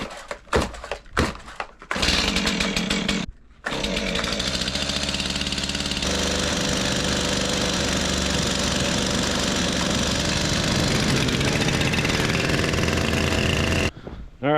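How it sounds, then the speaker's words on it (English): A chainsaw being fired up for cutting firewood at an Alaska cabin: a few short pull-start strokes, then the engine catches and runs steadily at a loud, close, rumbling idle before cutting off. "when you're firing up your chainsaw"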